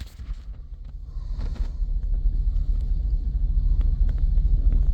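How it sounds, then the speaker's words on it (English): A car backs up slowly through deep snow in winter, a low engine rumble that grows steadily louder as it draws nearer, heard without any talking. "Here comes a car backing up."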